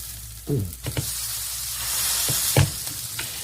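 Egg and other food frying in a pan with too little oil, a continuous close sizzle with a few clatters of stirring or utensil taps and no speech.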